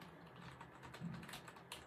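Soft, steady typing on a Tech1 Keyboard X gamer RGB keyboard, faint clustered key presses over a low background hiss, close but very quiet, no voices.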